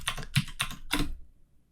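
Several crisp clicks of computer keyboard keys, including the Enter key, tapped in a quick uneven run close up, followed by quiet.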